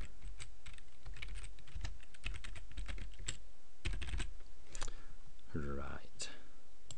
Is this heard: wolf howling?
no